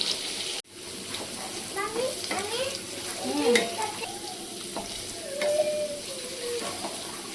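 Green beans stir-fried in a pan give a steady sizzle, with a sharp knock near the start and scattered scraping and clinking of a spatula against the pan.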